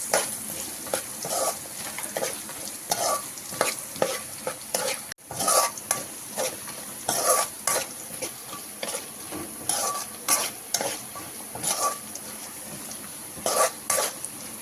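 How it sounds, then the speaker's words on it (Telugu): Raisins fry in a pan with grated fresh coconut for sago and broken-wheat payasam, giving a steady crackling sizzle. A spoon scrapes and stirs against the pan in repeated strokes, close by with no talk. "ఈ వేడికి కిస్మిస్ కూడా ఫ్రై అయిపోతుంది."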